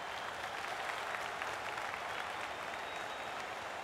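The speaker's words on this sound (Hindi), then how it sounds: "बॉल बाउंड्री के पार और स्टेडियम में शोर बढ़ता हुआ" A large crowd roars and applauds steadily, a dense, continuous wash of cheering noise that stays loud throughout without pause.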